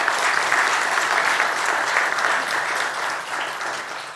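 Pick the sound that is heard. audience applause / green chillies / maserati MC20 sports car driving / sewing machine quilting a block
audience applause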